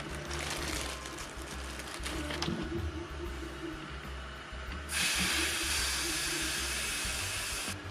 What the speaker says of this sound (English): I'm going to drain all the air out of the tire